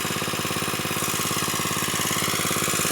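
An engine-driven water pump runs beside a rice field with a steady, close, loud mechanical drone and a rapid throbbing pulse that holds constant the whole time.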